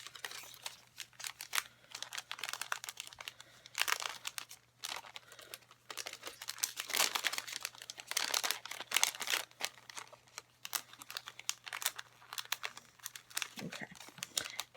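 A leftover plastic sticker bag is handled and squeezed close up, giving a steady, dense crinkling that continues with brief pauses and has a faint hum beneath it.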